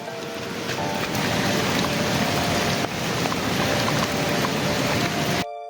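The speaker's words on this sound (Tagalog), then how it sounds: "ang lakas na ng ulan" Heavy rain pours steadily outdoors as a dense, loud, continuous hiss with no pauses, no voices heard, cutting off abruptly at the end.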